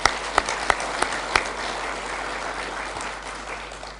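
Audience applause at an annual general meeting, a burst of sharp individual claps at the start settling into steady, moderately loud clapping that gradually thins out over about four seconds.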